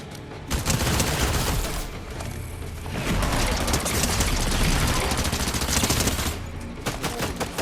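Sustained automatic gunfire in the Fortnite video game, a dense, loud stream of rapid shots running almost the whole time with a couple of brief pauses, with no talking.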